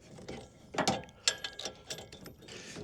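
A 24 mm wrench tightens a bolt on a bike rack hitch, giving a close series of quick ratcheting clicks and metallic turns in uneven bursts.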